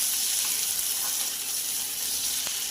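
Chopped onion frying in hot oil in a pan for a Bengali chicken kosha, a steady close sizzle with a faint watery hiss running evenly throughout.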